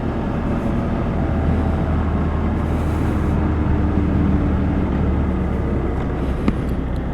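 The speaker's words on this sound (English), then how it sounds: "I was wondering what that noise was, but it's a helicopter above me." A steady, low droning rumble fills the whole stretch, a continuous mechanical hum from a helicopter flying overhead, with broad noise and no break.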